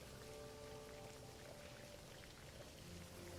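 Faint, steady pouring and splashing water in a wet video game area, a continuous trickling stream with no voices.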